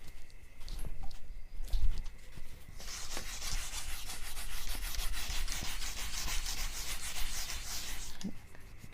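A duster rubs chalk writing off a classroom board in sustained brisk scraping strokes, loud and close for several seconds, with faint tapping before it and no speech.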